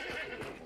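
A short horse neigh from the video game Hunt Showdown, a brief whinny with faint hoof clopping, moderately quiet and alone.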